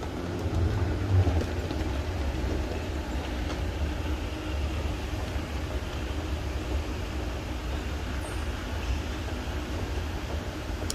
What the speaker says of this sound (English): Yan yung GO train. Ito yung national train.